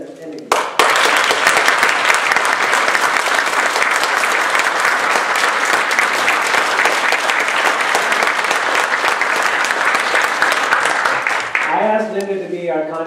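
A large audience at a Toastmasters District 30 Spring 2014 International Speech Contest gives the contest toastmaster a loud, dense round of applause lasting about eleven seconds before it cuts off and a voice begins speaking.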